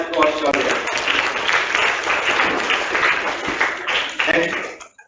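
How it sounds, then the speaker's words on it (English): An audience applauds a quiz contestant at a zonal school quiz competition, dense clapping sustained for about five seconds and then fading out, with voices mixed in. "Clap for Shaurya."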